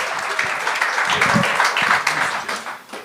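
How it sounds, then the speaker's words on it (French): Audience applause fills a French comedy stage show: steady, dense clapping at moderate loudness for about three seconds, easing off slightly at the end. "On applaudit Maverick."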